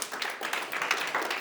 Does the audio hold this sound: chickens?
no